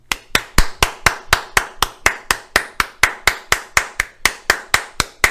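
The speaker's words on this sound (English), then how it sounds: "I have to quit clapping." One person claps their hands alone, about twenty sharp, evenly spaced claps in a steady rhythm, close and loud.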